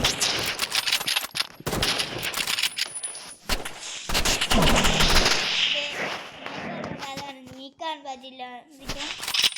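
Sniper rifle shots ring out in Roblox Murder Mystery 2 as a series of sharp, loud cracks in quick bursts, mixed with game effects, chiming tones and voices.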